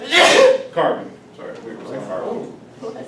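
A single sharp sneeze bursts out at the start, near and loud, followed by a man resuming a lecture on cast iron and carbon content.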